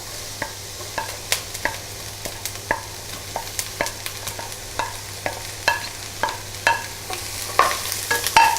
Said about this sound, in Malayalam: നമുക്കിനി കൊച്ചുള്ളി ഇട്ട് കൊടുക്കാം.